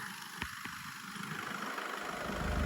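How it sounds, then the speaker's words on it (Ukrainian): A low, steady idle of a Skoda Octavia A7 1.6 diesel engine hums quietly, rising slightly in level toward the end, with a couple of faint clicks early on. "Двигун працює тихенько"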